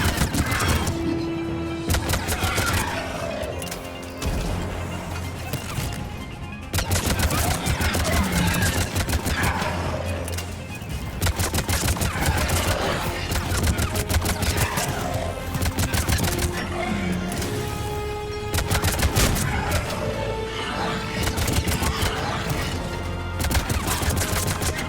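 A Mass Effect 3 Legendary Edition battle fills with continuous heavy gunfire, rapid automatic bursts and impacts layered thickly, and voices are faintly audible beneath the shooting.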